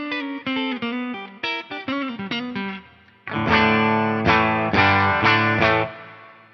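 An electric guitar is played through a Fractal FM9 amp modeler with a greenback speaker cabinet. A picked melodic phrase gives way to loud, sustained, distorted chords, with no voice over the playing.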